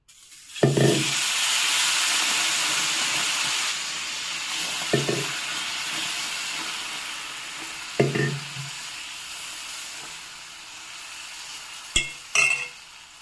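Rava dosa batter is poured onto a hot pan and sizzles loudly, a sustained close hiss that slowly fades, broken by several short scraping and tapping sounds of a ladle spreading it; no one speaks.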